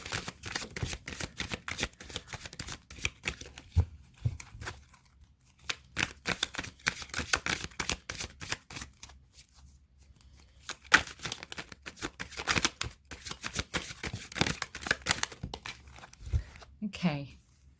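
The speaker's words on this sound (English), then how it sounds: "just shuffle the cards" Tarot cards are shuffled in quick, crisp bursts of riffling and slapping, close and fairly loud, with pauses between rounds and a few spoken words toward the end.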